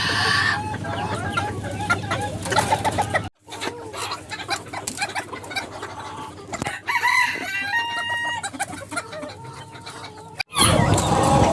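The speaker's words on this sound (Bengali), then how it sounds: "এখানে মালয়েশিয়ান শর্ট সেরেমা আছে দুই জোড়া" Several Malaysian short Serama chickens cluck and chatter close by, with occasional crowing mixed in. The sound has a few abrupt cuts between short segments.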